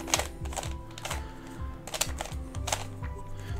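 A hedgehog-shaped 3x3 puzzle cube being scrambled, with rapid, irregular plastic clicks and clacks from quick turns, close up and fairly sharp, with no speech.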